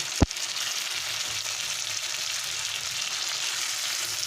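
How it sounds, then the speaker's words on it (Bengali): Chicken liver hitting a hot pan with a sharp thud, then a steady, loud, dense sizzle of frying that fills the rest, close and without talk. "আমি রান্না করে নিলাম জিলেটা আর এবারে আমি মেটেটা দিয়ে দেব"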